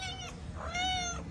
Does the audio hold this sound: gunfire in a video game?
no